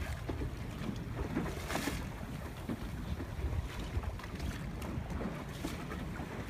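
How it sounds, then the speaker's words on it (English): Steady wind roars across the microphone aboard a sailboat racing in a Southern California regatta in a seven to eight knot breeze, with faint water and rigging noise underneath. "we're seeing about seven knots of breeze, maybe eight knots out here today"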